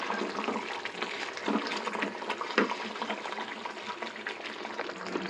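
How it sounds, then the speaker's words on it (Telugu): Masala rinse water poured into a simmering vegetarian egg curry with potatoes, a steady close splashing pour with bubbling and sizzling running the whole time, no talk. "ఆల్రెడీ ఇక్కడ మన మసాలా కడిగి నీళ్ళు ఉన్నాయి కదండి, ఆ నీళ్ళు వేసేసుకుంటున్నాను."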